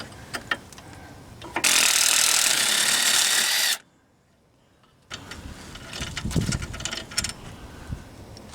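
An impact wrench with a 5/8 socket works on the lower control arm bolts of a 2006 Chevy HHR: a loud sustained hammering burst lasting about two seconds, then silence, followed by clicks and ratcheting handling noises.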